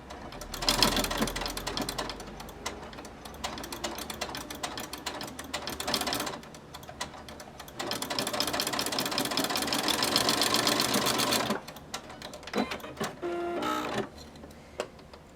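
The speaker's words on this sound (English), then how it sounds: "we will go ahead and sew again perpendicular to the pin tucks" A sewing machine stitching across pin tucks in fabric, running in loud mechanical buzzing bursts with pauses between runs, close and steady while sewing.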